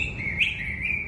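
A pet bird sunning outdoors gives a sustained thin, high chirping trill with a brief brighter tweet in the middle, close and clear over faint background noise.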